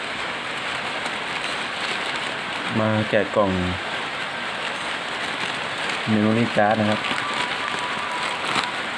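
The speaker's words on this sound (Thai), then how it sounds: "ฝนตก" Steady rain falls throughout, a soft continuous hiss that stays beneath someone talking in short bursts.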